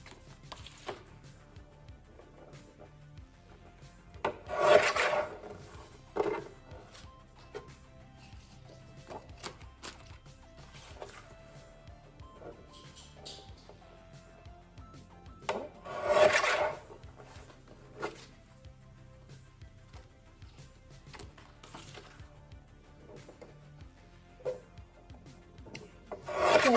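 Paper cutter slicing sheets of cardstock printed with gingerbread houses into 4 by 6 pieces, heard as two louder rasping cuts a few seconds into the sequence and again later, with faint rubbing and handling between them.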